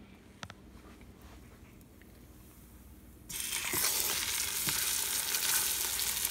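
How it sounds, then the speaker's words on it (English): A flour-coated beef pot roast meets a hot pan and starts searing, with quiet clinks and handling noises at first, then a sudden, sustained loud sizzle that continues steadily close by. "I'm going to put it inside the pan now so that it can sear."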